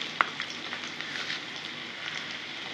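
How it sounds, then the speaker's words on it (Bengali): Onions frying in a pan for a bitter gourd dish make a soft, even hiss with a small pop near the start. The sizzle stays fairly faint and steady throughout, with no one talking. "পেঁয়াজটা আমি একটু লাল লাল করে ভেজে নেব।"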